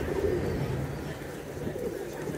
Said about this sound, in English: We got the pigeons right here.